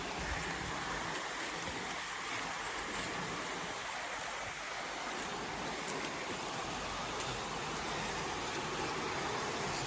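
A flowing river in rural Ghana, a dense, continuous rushing of water that stays steady and fairly loud throughout with no voices.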